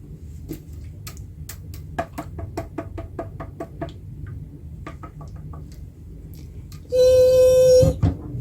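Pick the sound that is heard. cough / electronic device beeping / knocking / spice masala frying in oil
knocking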